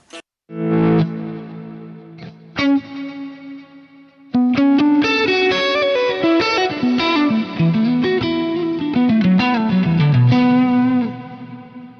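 An electric guitar plays held chords and then a run of quicker notes through a cloud reverb effect on a Hotone Ampero Stomp modeler, mix 30, pre-delay 100 ms, each note washed in lush, spacious reverb that lingers.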